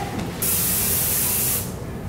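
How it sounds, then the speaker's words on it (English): Hairspray hisses from a can onto curled hair in one loud, close burst of about a second, with no talk. "I'm just working this hairspray throughout my curls"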